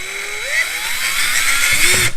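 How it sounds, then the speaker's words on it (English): Power drill boring a hole to mount an anchor trolley, a short whining run with the motor pitch climbing and holding, close and loud, alone. "I'm just going to go ahead and drill a hole for it"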